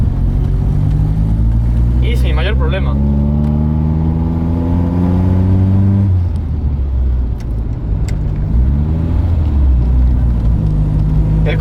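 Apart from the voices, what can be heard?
vintage car accelerating in second gear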